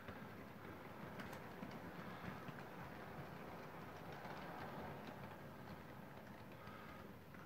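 An OO gauge model Mallard locomotive running on a Flying Scotsman chassis and motor reverses out of its shed, giving a faint, steady whirring rumble with light rail clicking throughout.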